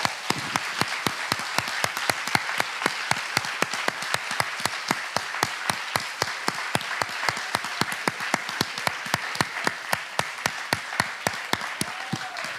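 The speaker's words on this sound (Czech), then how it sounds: "prosím vás, jestli můžete, zatleskejte všem, kteří tu stage mají na starosti" An audience at the Colours of Ostrava festival claps for the stage crew in a steady, even rhythm, sharp in-unison claps repeating over many seconds with a faint whistle near the end.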